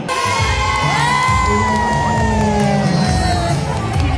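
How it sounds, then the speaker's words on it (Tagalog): A large crowd shouts and cheers loudly and continuously at a Filipino Migrant's Day event in Switzerland, with whoops and high yells rising over the roar. "Malakas ang hiyaw dito."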